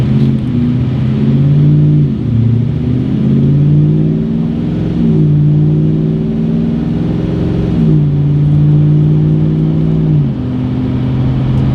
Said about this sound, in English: So listen to that box. Acceleration, right?